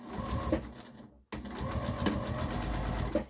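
A sewing machine stitches a fabric harvesting apron, running in a fast, even mechanical whir close by, with a brief pause in the middle before the stitching picks up again.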